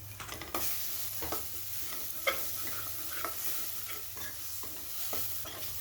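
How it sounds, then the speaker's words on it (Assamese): Ground spices, turmeric, coriander, cumin and fish masala, stirred in a pan over a low gas flame, a steady soft sizzle with repeated scraping strokes of a spoon, close and without talk. "গেছৰ জুই কমাই লৈছোঁ আৰু সঘনাই লৰাই আছোঁ।"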